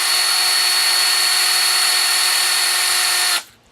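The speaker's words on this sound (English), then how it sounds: "I have my trusty dusty cordless drill, which I enjoy using in my home workshop" A cordless drill in a home workshop runs continuously at a steady high-pitched whine, loud and close, then cuts off abruptly near the end.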